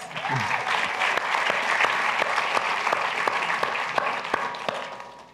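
An audience at an author talk applauds warmly and continuously, a dense patter of many hands with a few sharper claps standing out.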